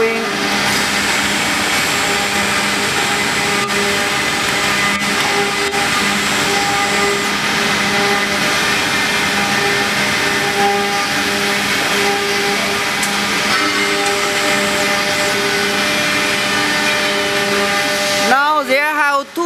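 A 1325AS2 CNC router with two spindles moving along its X axis, a steady loud whining hum with tonal motor lines throughout, ending in a brief rising sweep; a voice talks over it.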